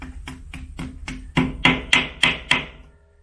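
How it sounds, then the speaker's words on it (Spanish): A hammer drives a wooden plug into a hole with about eight evenly spaced sharp knocks, the later blows louder and harder, close up with no talking. "Tenemos nuestro taco, tenemos nuestro martillo y procedemos simplemente."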